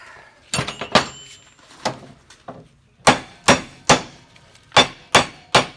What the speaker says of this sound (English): the axle itself can actually make a fine little hammer to make sure that thing gets good and started